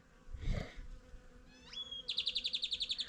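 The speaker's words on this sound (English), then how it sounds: "There's a lot of bees" Bees buzz around a blossoming creosote bush near Roosevelt Lake, a soft hum close by, followed by a rising chirp and a rapid, pulsing series of high trilling bird notes.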